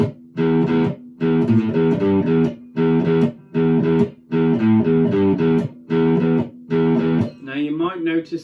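Electric guitar playing a riff, loud and close: repeated short bursts of a distorted chordal phrase with brief gaps between them, ending in a bent, wavering sustained note.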